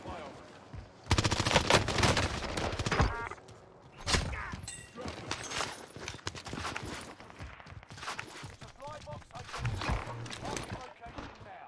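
Gunfire from the OTS 9 in Warzone Rebirth Island, loud bursts of rapid automatic shots in several volleys mixed with game sound effects and a voice talking over them.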